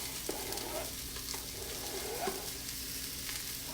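Onions and peppers sauté in a greased, preheated Instant Pot, giving a continuous soft sizzle with a few stirring scrapes, close and moderately quiet.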